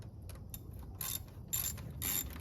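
A ratchet with an 8mm socket tightens radiator hose clamps on a 2013 Chevy Tahoe, giving quiet, short clicking bursts, with three stronger runs of rapid clicks near the end and no talking.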